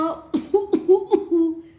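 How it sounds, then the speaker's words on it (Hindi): Several short, sharp coughs in quick succession from a close voice, with a brief rough exhale between them. "जैसे मुझे खांसी आ रही है, हुक्का पी के।"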